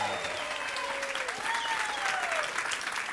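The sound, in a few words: audience applause welcoming Jorge Vercillo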